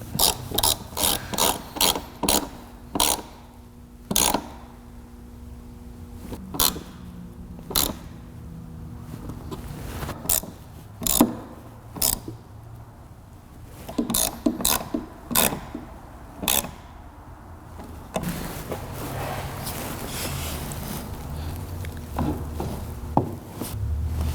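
A hand ratchet tightens cross bar bolts on a vehicle roof, with bursts of sharp, close clicking pawl strokes separated by pauses, then a softer continuous mechanical rattle at the end.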